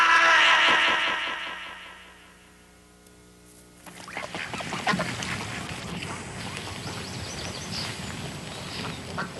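Ducks quack at a hunting stand, a burst of calls starting loud and close then fading, followed by a steadier stretch of splashing and rustling water noise with no talk.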